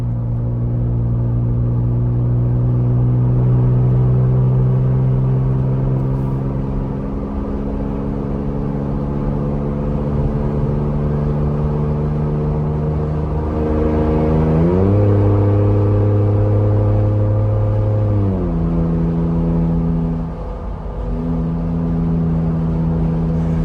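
A truck towing a vehicle on the interstate at 70 mph gives a loud, steady engine drone with rumbling road noise, its pitch shifting a few times as the load changes.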